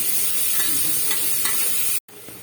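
Cabbage stir-fried in a pan for mixed vegetable rice gives a loud, close, continuous sizzle with stirring scrapes, cut off abruptly for a moment near the end before resuming, and no one speaks.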